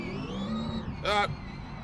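A small car fitted with a V8 in the Automation game revs once in a brief, sharp burst of rising engine tone over a quieter idle hum.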